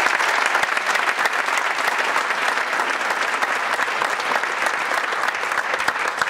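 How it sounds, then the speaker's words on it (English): An audience at an event welcoming a railcar manufacturing plant applauds two gentlemen who stand up, giving steady, dense clapping from a large crowd that holds at an even loudness throughout, with no speech over it. "why don't you stand up and give them a round of applause."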